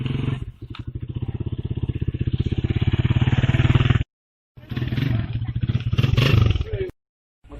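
The engine of a new motorbike in an Indonesian film idles and revs in a steady, throbbing putter, close and fairly loud, cut off by two brief silences.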